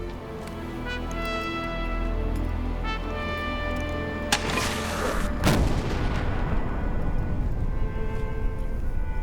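Cannon fire from gunners manning artillery, with two heavy booms about a second apart breaking over a steady orchestral music bed.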